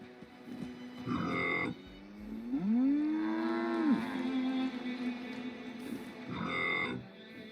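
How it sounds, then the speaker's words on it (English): A cow in the video game Fallout 76 gives a long, low moo with a rising and falling pitch, close and clear, framed by shorter grunting calls before and after. "Comforting moo."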